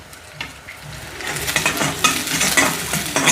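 Chopped onion and green chili dropped into hot pan with whole coriander seeds and cumin, crackling and sizzling loudly as a spoon stirs and scrapes, growing fuller over a few seconds.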